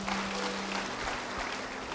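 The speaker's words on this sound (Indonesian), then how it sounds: "Beri tepuk tangan bagi Dia" Church congregation clapping hands in praise during a sermon, a dense continuous patter of many hands at moderate volume with a faint low hum underneath.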